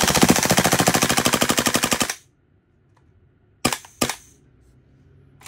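A Kingarms TWS GBB Lite gas blowback airsoft rifle fires a loud, rapid full-auto burst of sharp clacking shots for about two seconds, then falls silent before two single mechanical clacks.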